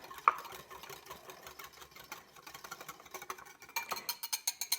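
An oregano, salt and pepper dressing is stirred in a small bowl, giving soft scraping that turns into a quick run of light, rhythmic clicks near the end, close and fairly quiet.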